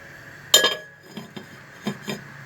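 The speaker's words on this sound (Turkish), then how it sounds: "Şimdi tenceremin kapağını kapatıyorum." A lid set onto a cooking pot of Turkish dried bean stew with vegetables gives one sharp metallic clink, followed by a few softer taps and rattles as it settles, close and fairly quiet.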